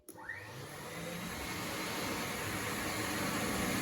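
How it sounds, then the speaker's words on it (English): A battery floor scrubber runs with its vacuum on, a steady broadband whoosh that starts abruptly and swells to a constant roar, alone and close by. "Here's the vacuum and the squeegee."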